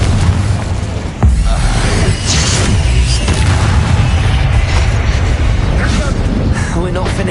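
An Incendio fire spell blasts in the middle of a Hogwarts Legacy battle, a loud booming burst that rolls into a dense, sustained roar of combat noise, with a voice talking underneath.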